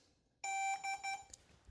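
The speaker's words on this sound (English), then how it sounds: "Hold the power button for 4 seconds or until it beeps." A DJI drone aircraft gives a short electronic power-on beep, a bright tone followed by three quick chirps, heard close in an otherwise quiet room.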